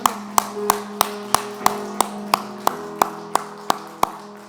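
A congregation at a New Year's Eve church service claps in slow, evenly spaced unison beats, about a dozen sharp claps over a faint sustained tone underneath.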